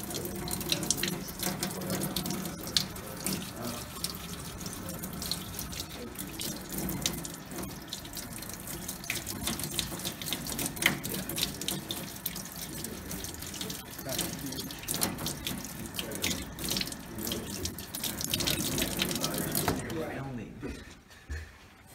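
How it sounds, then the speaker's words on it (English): Running tap water washing paint off lead-alloy organ pipe metal, a strong continuous gush and splatter lasting most of the time before cutting off near the end, with people talking over it. "wash the paint off just with water"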